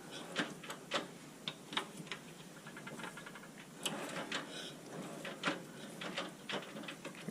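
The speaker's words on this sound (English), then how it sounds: "I can clean up those bottom threads that gets created. I can clean it up with that tap." A ground-down broken M8 tap cleaning out bottom threads, producing faint, irregular metallic ticks and light scraping clicks spread across several seconds, quiet and close with no talking.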